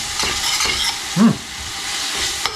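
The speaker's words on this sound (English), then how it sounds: "We're going to throw in our leeks first. I'm going to saute that for a little bit." Leeks hit hot olive oil in a pan, giving a close, continuous sizzle with a brief stirring scrape partway through; nobody speaks.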